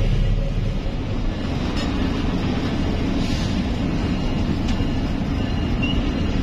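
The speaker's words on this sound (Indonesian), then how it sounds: "ini kita bakal kedengeran banget suara lokomotifnya karena ini kita tepat di belakang lokomotif" A train locomotive on the Bogor–Sukabumi line rumbles steadily from the carriage coupled right behind it, with a constant loud low roar and rattle throughout and faint squeals above.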